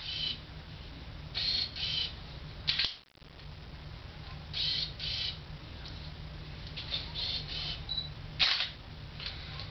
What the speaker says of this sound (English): We do find that the autofocus is quite a bit slower, and it likes to travel.